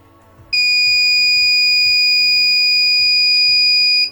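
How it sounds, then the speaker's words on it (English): A buzzer wired to an ultrasonic distance sensor sounds a loud, continuous piercing electronic tone that starts abruptly and holds for over three seconds before cutting off, over a faint rhythmic ticking underneath. "If it falls below 5 centimeters, the buzzer will go off."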